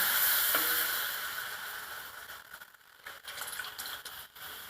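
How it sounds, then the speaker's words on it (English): Quiet, continuous hissing sizzle from milk heating in a pot for mac and cheese, with faint bubbling crackles and small pops, no talking. "And again, you hear that sizzling"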